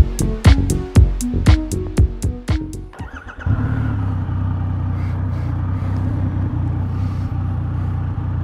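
A 2021 Triumph Rocket 3 with its 2.5-litre, 2,500 cc engine: a run of sharp clicks and knocks comes first, then the engine catches and settles into a steady, deep, loud rumble.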